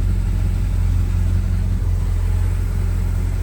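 A 1968 Ford F-100 Ranger with a 390 four-barrel V8 runs at a steady idle, its deep, even rumble close and continuous with no voices.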